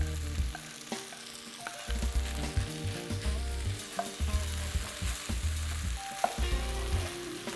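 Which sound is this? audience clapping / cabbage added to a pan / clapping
cabbage added to a pan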